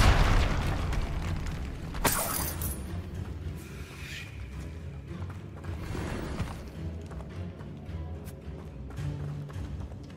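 A Confringo blasting spell going off in Hogwarts Legacy, a loud booming burst near the start followed by rumbling debris and lingering low-end noise, close and heavy.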